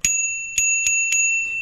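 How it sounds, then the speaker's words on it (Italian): A bicycle bell on a Beretta bicycle rings sharply four times in quick succession, followed by a fainter fifth ding, each strike a bright metallic ping with a lingering tone. "Campanello incluso"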